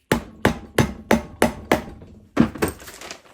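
Sharp, close hammer taps on the sump of a Briggs and Stratton V-twin engine during a sump gasket replacement, six evenly spaced knocks followed by a heavier, more ringing blow, with no talking.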